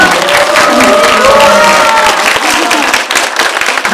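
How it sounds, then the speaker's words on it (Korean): Applause from a film screening audience at a post-screening Q&A session, dense clapping mixed with crowd murmur and overlapping voices throughout. "박수 한번 다시 주세요"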